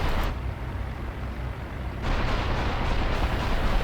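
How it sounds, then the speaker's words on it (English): An anti-aircraft flak gun fires in a flight combat video game, a dense, heavy rumbling barrage of blasts mixed with roaring engine noise, loud and sustained without a break. "My target, the flak to the left of the road, sees me, opens fire, but it's too late."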